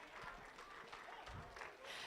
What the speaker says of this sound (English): let's give a round of applause for our last group of juniors out here in this drive.